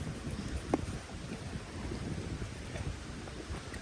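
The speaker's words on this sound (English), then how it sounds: "Oh my gosh, it's so windy." Strong, cold wind blows outdoors, buffeting the microphone with constant low rumbling gusts.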